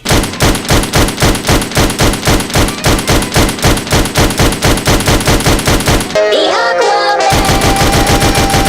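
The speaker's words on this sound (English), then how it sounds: "Shoot the vermin with the gun in the room." Rapid, evenly spaced gunshots fire loudly and close in the VR game Sam & Max: This Time it's Virtual, pausing briefly before the steady stream resumes.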